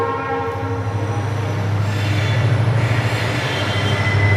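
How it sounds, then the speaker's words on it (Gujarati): A train rolls past nearby with a loud, steady rumble of the railcars, a horn blaring over it and metallic wheel squeal rising toward the end, with no one speaking. "ટ્રેન નીકળી ગયું"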